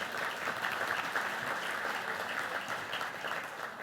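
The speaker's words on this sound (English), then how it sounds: "that deserves a round of applause" Audience applause fills a Manatee Chamber of Commerce Champions of Healthcare awards event, steady dense clapping sustained throughout at moderate level with no talk over it.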